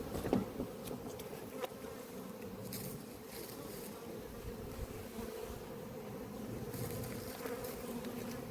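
Honey bees buzzing around an open hive at an apiary, a dense continuous drone of many wings fairly close, with occasional louder passes as single bees fly near.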